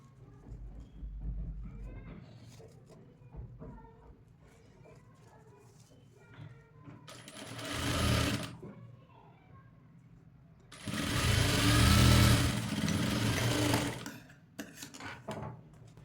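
A sewing machine runs along the folded edge of a cutwork designer blouse in two whirring bursts, one brief and one longer, after a stretch of someone speaking.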